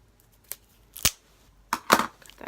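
Scissors snip open makeup packaging in a few separate cuts, close and crisp, with short pauses between them and no talking.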